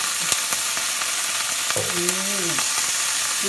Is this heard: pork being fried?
yes